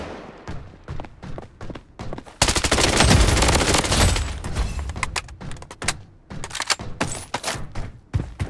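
Gunfire in the Blood Strike shooter game aimed at the player: bursts of rapid automatic shots, with a long dense volley in the middle, loud and close, mixed with thuds and impacts.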